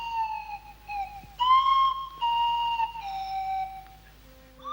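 Gliding Swanee whistle tones swoop and hold in a few bending phrases, moderately loud over a faint low hum.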